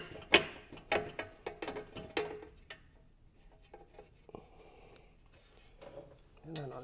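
Metal bolts being handled and started while fitting a skid plate for a Norden 901 gut guard: sharp clinks and ratcheting clicks near the start, then quieter fiddly mechanical taps.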